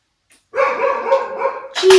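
Dogs bark and yelp outside at midnight, a continuous run of fairly loud, overlapping calls lasting over a second, ending with a brief sharp noise.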